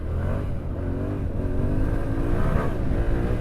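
A Yamaha Tenere motorcycle engine revs while riding off-road, a loud, steady, close engine drone that rises gradually in pitch, with no voices heard.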